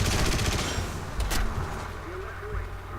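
Aircraft machine gun fire in the War Thunder video game, dense rapid bursts of gunfire heard at the start with a brief sharp burst later, over engine drone and under a voice talking.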